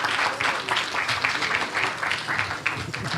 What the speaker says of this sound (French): petit applaudissement, s'il vous plaît